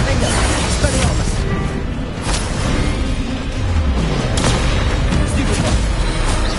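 Bombarda and Confringo explosion spells going off in Hogwarts Legacy, with dense, loud, continuous booms and crashes layered into busy game combat noise throughout.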